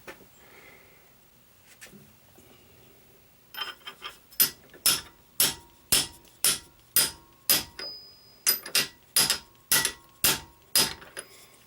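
Metal sprocket being tapped down onto a shaft with a socket for a motorized wheelbarrow build: a quiet start, then a steady run of about fourteen sharp, close, evenly spaced hammer-like metallic taps, alone with no talk.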